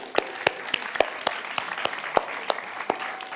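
A small conference audience at a Scrum gathering applauds the teams, with fairly sparse, distinct handclaps in an irregular rhythm at moderate volume.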